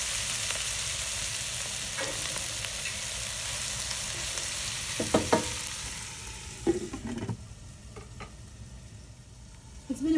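Green peppers (Shimla mirch) cook in a pan with a lid on, giving a steady low sizzle broken by a few clattering knocks and scrapes, and the sizzle fades toward the end.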